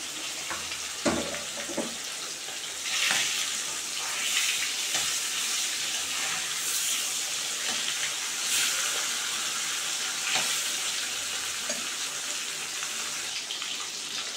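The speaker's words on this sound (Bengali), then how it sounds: "চার পিস করে ভেজে নেব" Fish pieces fry in a pan of hot oil, giving a steady, close sizzle and crackle with occasional louder spits and bubbling throughout.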